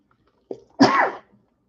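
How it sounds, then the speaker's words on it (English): A single human sneeze, with a short sharp intake followed by a louder explosive burst, close and clear against quiet. "I have to sneeze."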